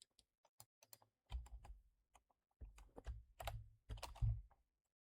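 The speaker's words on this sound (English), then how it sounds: "I'm going to type in build a website" Bursts of typing on a computer keyboard, quick clustered keystrokes with short pauses between runs, close and fairly quiet with no talking.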